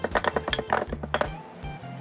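Garlic cloves being smashed in a home kitchen while making low-sodium chicken noodle soup, a quick series of sharp knocks and thuds on a board, close and crisp, about a dozen hits then quieter handling.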